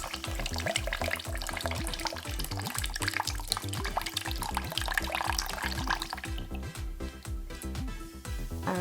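Coconut water drains from a coconut, opened with a hammer, into a bowl, making a continuous close trickle and splash over a rhythmic background pulse.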